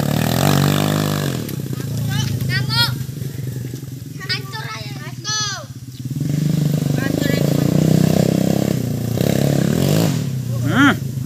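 A motorcycle engine revs hard and repeatedly up close, surging and dropping in pitch, while people shout and talk over it.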